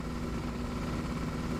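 A tractor engine in a 3D horror video game chugs at a steady low idle-like drone, continuous and even throughout with no voices.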